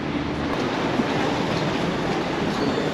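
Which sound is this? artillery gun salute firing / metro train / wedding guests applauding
metro train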